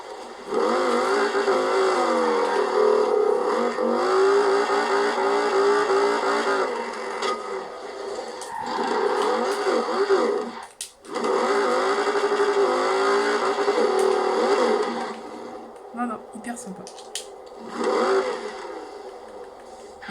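A V10 car engine in Forza Horizon 4, a car with side-exit exhausts like a truck, revs hard and loud through the gears with a brief dropout midway and rising, falling pitch, no talking over it.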